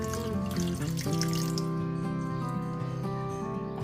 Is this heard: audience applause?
no